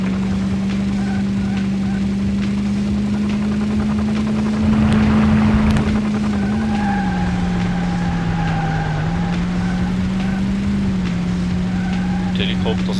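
Helicopters flying in the racing game Beetle Adventure Racing give a steady drone running through the whole stretch, with a louder whooshing swell near the middle, while a voice talks over it.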